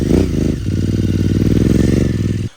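A 650cc motorbike with a loud exhaust roars up close, a steady throbbing, rumbling engine note that holds continuously before cutting off abruptly at the end.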